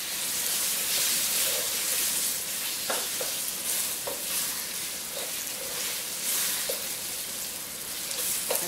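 Loud, steady sizzling of plantains frying in hot oil in a wok, with occasional crackles and stirring clicks, close up and without talk.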